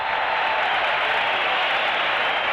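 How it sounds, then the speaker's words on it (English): Basketball arena crowd applauding a shovel pass during a Boston Celtics game, a steady, dense wash of clapping and crowd noise that holds evenly throughout. "listen to the crowd. They applauded that pass."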